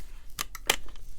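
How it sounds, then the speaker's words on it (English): Dollar Tree decor stems are cut with scissors: two short, crisp snips close to the ear, with a few faint clicks between them in a quiet room. "I am going to go ahead and cut these off right here where they join"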